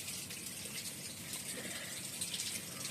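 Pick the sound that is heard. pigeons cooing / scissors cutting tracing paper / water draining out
water draining out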